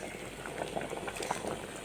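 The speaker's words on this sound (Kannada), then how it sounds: "ಈಗ ನೀರು ಕುದಿಯಾಕತ್ತಿದ್ದು" Water bubbling at a low, steady boil in a pot, a continuous soft gurgling close by, fairly quiet and with no voices.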